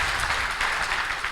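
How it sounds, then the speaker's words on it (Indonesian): Applause from the audience at a political party's national coordination meeting for cadre consolidation: a continuous, fairly loud roar of many hands clapping that holds steady throughout. "Tepuk tangan buat kita semua."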